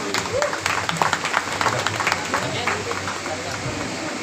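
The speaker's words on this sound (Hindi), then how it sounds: "जोरदार तालियों से स्वागत करो।" Audience clapping to welcome a singer at an Independence Day community program in India, a mix of scattered claps and crowd noise with people talking over it.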